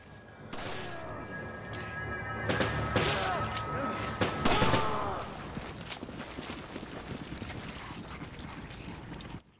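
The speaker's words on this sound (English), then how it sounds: "Let her do some shooting." Scattered gunshots and impacts go off in a Resident Evil 5 fight, with a few sharp bangs spread across the first half over busy game noise, moderately loud and then thinning out.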